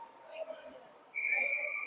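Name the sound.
referee whistle blown for icing in ice hockey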